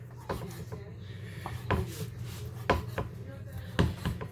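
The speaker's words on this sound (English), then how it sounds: "So I'm just slicing away." Knife slicing through food on a cutting board while prepping a brunch casserole, with several separate soft chopping knocks spaced about a second apart over a low steady hum.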